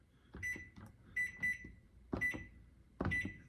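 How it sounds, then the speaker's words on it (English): Kitchen timer being set during a shrimp cooking session, a few short electronic beeps in separate pairs and singles with small handling clatter between them, close and clear. "I'll set a timer"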